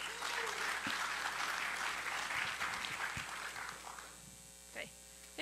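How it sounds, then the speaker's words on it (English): A conference audience at a security event applauds steadily for a speaker, a dense wash of claps over a low electrical hum that fades out toward the end. "give a warm round of applause for Wendy."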